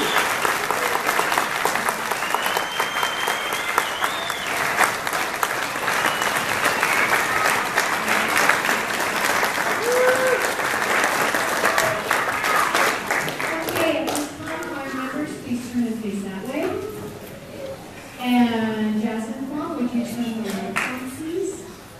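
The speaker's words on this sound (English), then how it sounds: "Please give them another round of applause." Applause from an audience at a Deer Creek Eagle Singers event in Bailey, Colorado, a dense clatter of clapping that fades out as children's voices and chatter take over.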